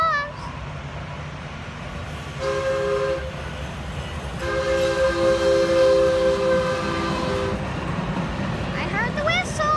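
A one-car DART light rail train passes a grade crossing, its whistle sounding in two clear tonal blasts over steady rumble and crossing noise, with people talking nearby.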